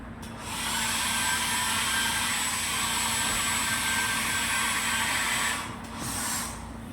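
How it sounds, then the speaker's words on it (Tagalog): A hair dryer in a Sogo hotel deluxe room blows with a steady, loud whooshing roar for about five seconds, then cuts off and briefly restarts. "Ang galing mo, may pa-blower pa, no?"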